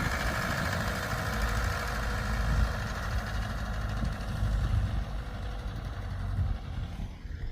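A tractor fitted with a sprayer runs steadily nearby, a loud, low diesel drone with a slightly knocking pulse that holds for several seconds before easing at the end.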